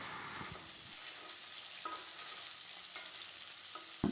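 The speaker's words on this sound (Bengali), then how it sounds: "মাছটা ভাজা হতে হতে" Pieces of rohu fish frying in oil make a continuous moderate sizzle with occasional spatula scrapes and clinks against the pan.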